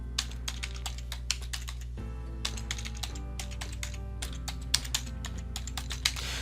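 Continuous typing on a computer keyboard at close range, with rapid irregular key clicks and brief pauses over a steady low hum, and no one speaking.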